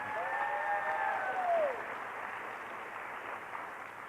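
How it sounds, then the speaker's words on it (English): A round of applause from the audience at an Arts Council of Fayetteville evening event, steady crowd clapping from start to finish with a faint tonal whine over the first half and no clear talk. "Let's give them a round of applause."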